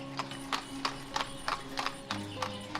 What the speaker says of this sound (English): This horse will bring them into town with their supplies.